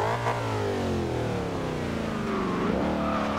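Engine of an SUV revving hard in the racing video game Forza Horizon 2, a loud continuous mid-pitched roar with rising and falling pitch sweeps, heard alone without talk.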